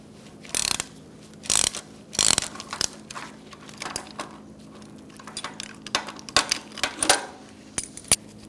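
Torque wrench tightening a front strut bolt to 40 foot-pounds on a 2004-2009 Mazda 3, giving a few sharp metallic clicks and ratchet bursts with scattered smaller clinks between them, close and moderately loud, with no talking.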